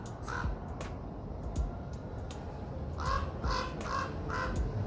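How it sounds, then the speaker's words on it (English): A raven calling in the desert, several harsh caws spaced across a few seconds, fairly distant and faint over a steady low rumble of a moving car. "Supposedly it's a raven and not a crow."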